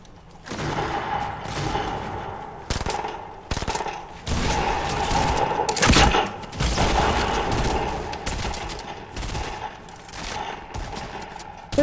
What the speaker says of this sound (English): Why is everyone shooting?